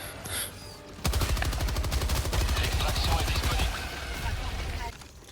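Rapid gunfire in the video game Helldivers 2, a dense run of sharp shots firing steadily for several seconds, loud and close, then tapering off near the end.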